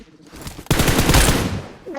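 Rapid automatic gunfire bursts in a mobile battle royale shooter played on an iPhone XR, loud and dense for over a second after a quieter start, then fading out.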